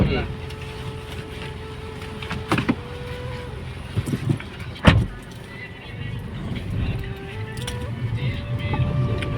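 A car engine hums steadily inside a vehicle on a road trip in India, with a few clunks and knocks and people talking in Hindi over the drone.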